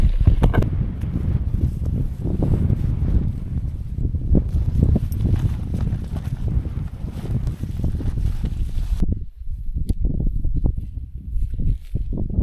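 Wind and heavy rain batter a microphone outdoors at a rainy Peak District camp, producing loud, continuous rumbling buffeting and rustle that drops away sharply near the end, leaving quieter handling knocks.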